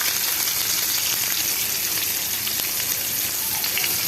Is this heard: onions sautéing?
yes